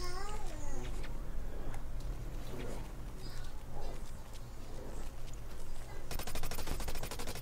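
Rapid M4X rifle fire in the shooter game Blacklight rattles steadily throughout, a dense continuous stream of shots with a sharper, brighter burst near the end, while a person talks over it.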